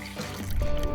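A little water poured into a mixture for making a dough-like batter, heard as a short, close trickle and splash that grows fuller in the second half.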